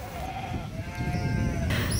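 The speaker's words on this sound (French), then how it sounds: "Sur les flancs du coteau pèsent des troupeaux de moutons et chèvres." Flock of sheep and goats on a hillside, a few drawn-out bleats rising over a low steady outdoor rumble, fairly distant and calm, one sharper call near the end.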